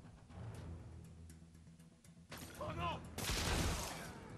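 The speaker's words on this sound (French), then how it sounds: "on va choisir la bombe de toile" A web bomb thrown in Marvel's Spider-Man lands with a loud, crackling burst that swells and lingers for over a second, after quieter game ambience with faint clicks and scattered effects.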